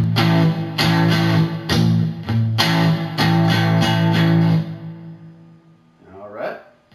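Palm-muted electric guitar riff from a song, chugging in repeated choppy bursts with steady rhythm, then ringing out and fading before a brief scrape of noise at the end.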